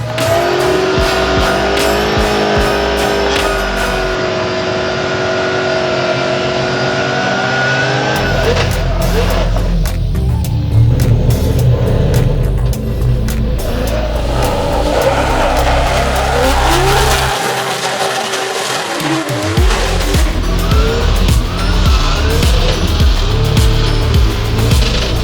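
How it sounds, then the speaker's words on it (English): Formula Drift car driven on a drag strip at a skills battle event, loud engine roaring and revving with tire squeal, surging and cutting out in bursts, close and intense. "Never driven the drift car on the drag strip."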